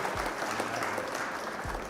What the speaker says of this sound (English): Round of applause for Lil Gherkin.